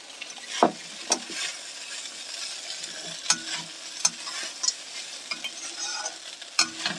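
Flattened rice pulao being stirred in a pan: a steady scraping stir with intermittent clinks of the spoon against the metal over a soft sizzle, close and fairly quiet, with no voices.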